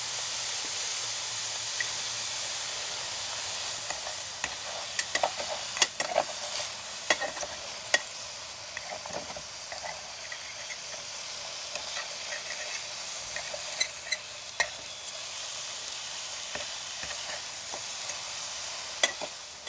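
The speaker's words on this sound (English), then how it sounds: "Pan should already be hot. Throw the bacon in there." Bacon strips sizzle in a hot pan on an alcohol stove, a steady close hiss peppered with sharp pops and crackles throughout.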